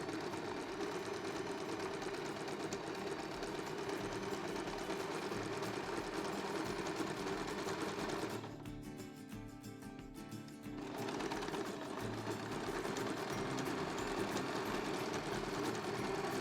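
Sewing machine stitching a zigzag along the edge of a fabric piece for an art quilt, a steady, close, rapid mechanical whir that briefly drops away for a couple of seconds before resuming.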